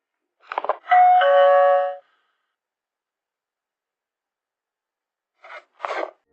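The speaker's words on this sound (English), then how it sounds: "with a heavy paw, it reached out to press the doorbell" Doorbell at a house front door pressed by a bear, a single electronic chime lasting about a second, preceded and followed by brief rustling and shuffling noises, near and clear against silence.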